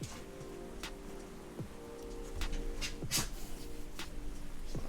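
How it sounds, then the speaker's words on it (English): Rain falls in Seattle, a steady diffuse patter of drops on surfaces with scattered louder taps and splashes, fairly faint and continuous for five seconds, with no voices. "It's rainy, always rainy in Seattle."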